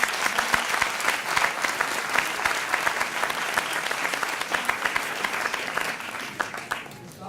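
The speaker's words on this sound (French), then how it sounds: "on accueille sous vos applaudissements" An audience at a French science outreach evening breaks into sustained applause to welcome a researcher, a dense crackle of many hands clapping steadily, fairly close and loud, fading slightly at the end.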